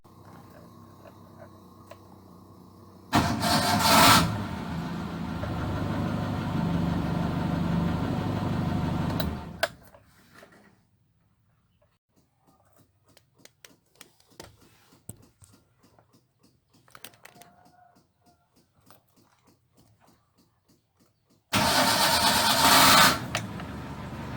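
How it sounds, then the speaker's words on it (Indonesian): A car engine cranks on the starter and then runs with a steady mechanical drone for several seconds. Quiet clicks and rattles follow, and another loud burst of cranking comes near the end. "ketika pagi-pagi hari kita menghidupkan mobil menstarter normal"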